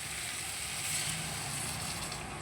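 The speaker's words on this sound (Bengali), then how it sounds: "এবার গরম জলটা আমি দিয়ে দেবো।" Hot water hits a pan of well-fried spices for a prawn and taro curry, producing a loud, steady hiss of sizzling that holds at an even level throughout.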